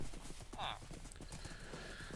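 Horse hooves clip-clop in Minecraft, a steady light trot running through the whole short moment beneath a brief whinny-like sound and in-game ambience.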